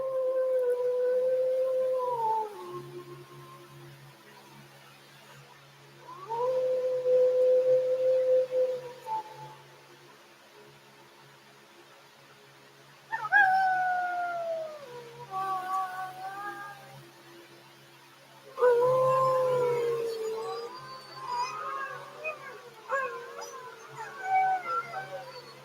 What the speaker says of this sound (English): Here's some howling for people who haven't heard it before.